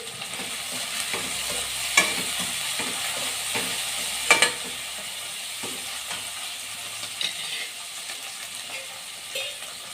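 A tempering for leftover khichdi crackles and sizzles steadily in hot oil, close and continuous, with occasional sharp pops and metal stirring clicks, and no voices.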